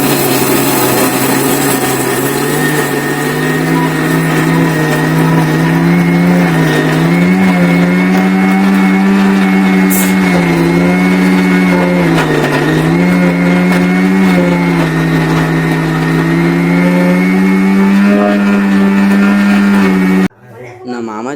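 A kitchen mixer grinder runs steadily and loudly with a droning motor whine that wavers slightly in pitch, stopping abruptly near the end.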